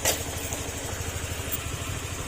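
A motorcycle engine idles close by with a steady, rapid, low-pitched putter and a light, even ticking running through it.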